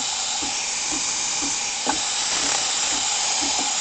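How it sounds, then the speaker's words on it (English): Breville Cafe Roma espresso machine steam wand hissing steadily with pure steam, a broad continuous hiss with faint periodic clicks or sputters underneath, close and fairly loud, no talking. "So it's just pure steam."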